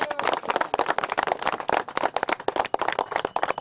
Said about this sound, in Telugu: చప్పట్లతో ఒకసారి గట్టి చెప్పండి ఆ విషయం